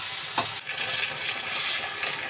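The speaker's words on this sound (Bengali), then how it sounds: "দেখো খুব সুন্দর ভাজা হয়ে যাচ্ছে" Palm-fruit malpua batter sizzling in hot oil over a lowered flame, a dense continuous crackle close by with light stirring scrapes and no voices.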